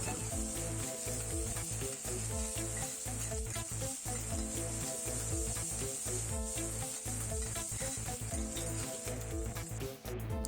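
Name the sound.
shallots, garlic and green chillies frying in a pan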